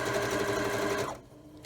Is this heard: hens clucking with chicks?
no